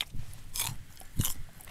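A crisp Boeun jujube bitten fresh, giving two sharp crunchy snaps around a quiet pause, with faint chewing between them, close to the microphone.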